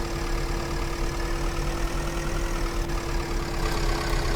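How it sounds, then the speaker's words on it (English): A game car engine idles in a Unity project as a steady, even drone with a low hum and a constant mid-pitched tone. It stays unbroken and alone throughout. "Now it has audio, engine audio with it."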